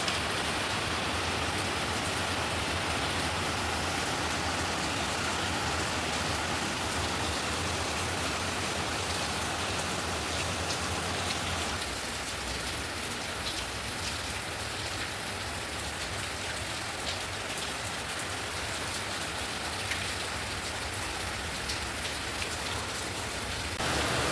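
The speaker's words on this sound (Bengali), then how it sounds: "দেখো বৃষ্টি পড়ছে অঝোরে।" Heavy rain pours down in a dense, continuous roar, steady throughout with a slight change in tone partway through.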